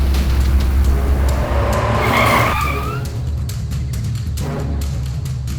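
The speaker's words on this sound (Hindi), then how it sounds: "गाड़ी चला रहा था" A car drives with tires skidding and squealing, a loud sustained engine and road roar with a rising screech in the middle that fades as the vehicle settles, no talk.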